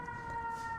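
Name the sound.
sirens in the street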